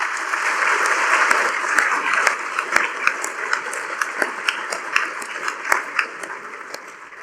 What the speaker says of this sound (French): M. Patrick Baradeau, que je vous demande d'applaudir chaleureusement.